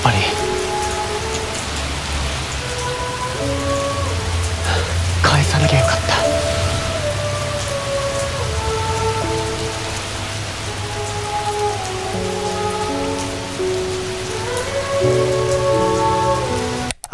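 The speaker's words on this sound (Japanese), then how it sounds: "雨すごかったですね。" A rain machine pours heavy artificial rain on a film set, a loud, steady hiss and patter of water beating on surfaces, with speech and small knocks faintly underneath.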